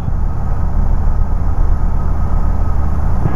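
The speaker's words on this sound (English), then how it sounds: "I can hear a little bit of engine noise." Small airplane engine noise as heard through a Bose QC35 headset in the cockpit, a loud, steady low drone and rumble that continues without a break.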